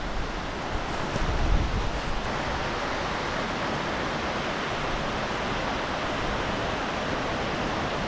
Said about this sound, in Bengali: বৃষ্টি হচ্ছে জোরে হাওয়া দিচ্ছে